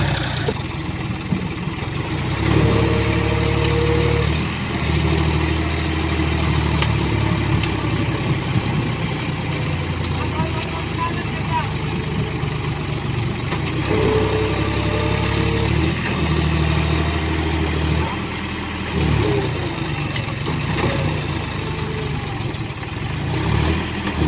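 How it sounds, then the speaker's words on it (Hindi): A John Deere 5205 tractor engine idles steadily up close, a continuous low rumble holding an even pitch for the whole stretch, with no voices over it. "जॉन डियर ट्रैक्टर ब्रांड है भाई"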